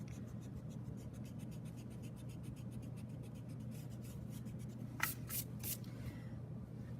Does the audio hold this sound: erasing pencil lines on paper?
yes